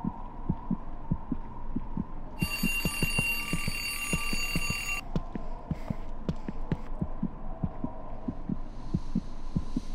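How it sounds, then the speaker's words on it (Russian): An alarm clock in the horror video game Dark Veer rings in a bright, shrill burst for a few seconds over a steady, thumping heartbeat pulse that carries on beneath and after it. "будильник сейчас прозвенит"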